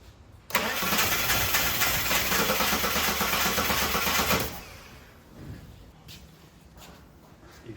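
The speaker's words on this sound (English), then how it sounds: "Damn air compressor starting up to scare the crap out of me." An air compressor kicks on suddenly in a garage and runs with a loud, rough mechanical rattle for a few seconds before winding down and stopping, followed by quieter shop noise.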